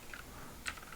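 A computer keyboard is typed on, two or three faint quick key clicks, close and quiet with no talk.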